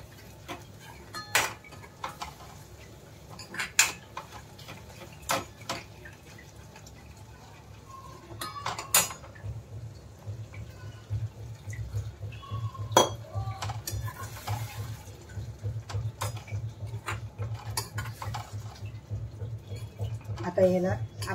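A spoon stirs sev bhaji with added water in a pan, producing repeated metallic clinks and scrapes with a soft bubbling simmer beneath, fairly close and moderately quiet.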